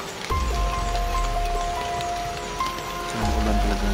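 Steady rain falls and patters on surfaces, a dense continuous hiss with a low rumble, loud and close throughout.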